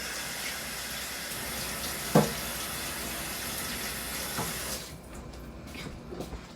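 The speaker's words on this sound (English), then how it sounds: "let me wash my hands" Tap water runs steadily into a sink while hands are washed beneath it, a continuous close hiss with a brief splash partway through, before the flow is shut off and only quieter drips and handling remain.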